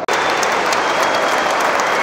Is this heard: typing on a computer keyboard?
no